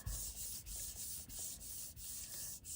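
Paper is rubbed firmly over a gel print for an image transfer, a close, steady rhythmic scrubbing with regular back-and-forth strokes at roughly three per second.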